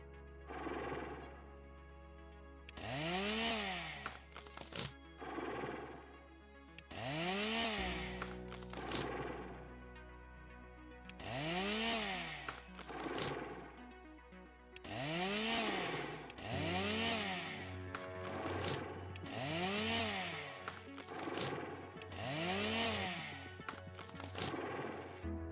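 A chainsaw in the video game Icaria cuts wood with repeated loud revving bursts, about eight rising-and-falling whines over a low idle hum, each lasting a couple of seconds with short pauses between.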